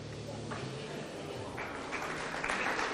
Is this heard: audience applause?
yes